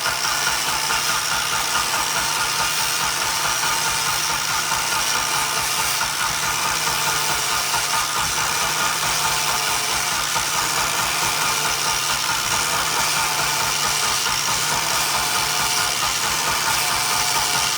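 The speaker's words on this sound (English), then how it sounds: "We'll give the starter a little break so it doesn't overheat." A Volvo 240's starter motor cranks the engine in a steady, rhythmic churn that runs close and loud for the whole stretch without catching, with no talking.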